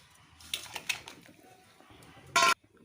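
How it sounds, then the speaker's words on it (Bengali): Pieces of boal fish are set one by one into a kadai, giving a few soft clinks and taps of metal and utensils, then one sharper, louder clatter near the end, close and quiet between. "এখন এক এক করে মাছটা দিয়ে দেবো।"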